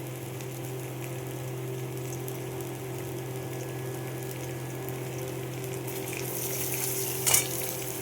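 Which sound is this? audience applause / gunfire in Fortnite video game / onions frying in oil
onions frying in oil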